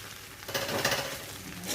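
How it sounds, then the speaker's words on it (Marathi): Chopped onion and a piece of roasted coconut sautéing in a pan, giving a soft, steady sizzle with light stirring scrapes that swell midway through the short stretch. "अशा प्रकारे आता हे परतून घ्यायचं गॅस बंद करून"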